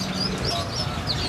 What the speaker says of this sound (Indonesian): Ini cucak jenggot apa nih? Cucak jenggot Medan.